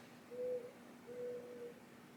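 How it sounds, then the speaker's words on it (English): An owl hoots twice, faint and distant, two drawn-out tonal calls separated by a pause over a quiet low hum, with no talking. "I swear to God, I just heard an owl down here"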